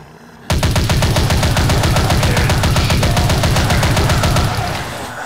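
Rapid automatic gunfire in the shooting game Dead Target, firing at barrels that explode: a loud, dense burst of evenly spaced shots lasting about four seconds, then a fading tail.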